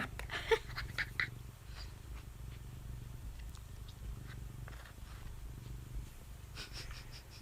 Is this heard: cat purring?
yes